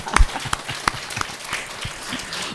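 Listeners at a Buddhist monk's dharma talk give scattered, fairly quiet clapping, with sparse individual claps spread over a couple of seconds.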